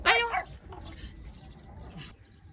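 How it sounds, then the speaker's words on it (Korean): A retriever gives one sharp, loud bark close by, followed by quieter shuffling and a faint whimper against a low outdoor background. "뭐 보고 짖는 거야?"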